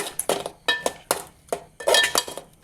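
Tomato rice ingredients stirred in a metal pan, a series of sharp spoon scrapes and clinks against the pan at an uneven rhythm, close and fairly loud with quiet gaps between strokes.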